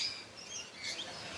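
Tropical birds call among the trees at Loro Parque zoo in Tenerife, a few thin high chirps and whistles, faint and somewhat distant over quiet background, with no voices.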